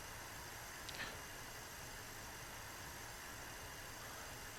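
MD-82 jet engines in a flight simulator hum and whine steadily while taxiing, a constant broadband drone with a brief faint click near the start.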